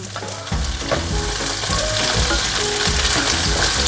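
Eggplant sizzles and crackles steadily as it fries in a hot pan with chilies and tomatoes, a loud continuous spatter with occasional stirring knocks, no talking.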